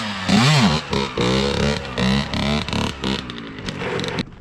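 A dirt bike engine revs hard in a series of loud, rising and falling bursts, each throttle blip sweeping up in pitch before dropping, close to the listener with no talking.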